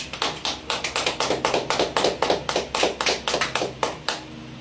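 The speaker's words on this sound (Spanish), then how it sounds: "Denle una ofrenda de palmas a Dios" A church congregation claps in praise during a Spanish-language sermon, a run of quick, sharp handclaps in fairly even rhythm, close and moderately loud, with no voices over it.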